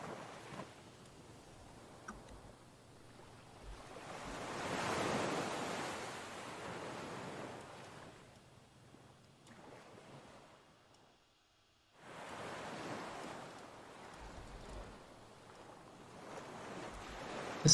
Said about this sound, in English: The soothing sound of the waves leaking into our busted chassis